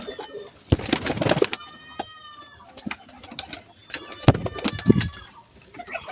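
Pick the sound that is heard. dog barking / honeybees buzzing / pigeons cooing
pigeons cooing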